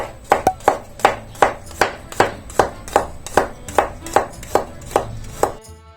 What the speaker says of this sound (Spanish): Una vez que cortemos el ajo